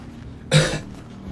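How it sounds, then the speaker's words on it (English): One deep cough bursts out loud and close in a quiet room. A second cough starts just as the clip ends. "He started coughing. Wet. Deep. Red."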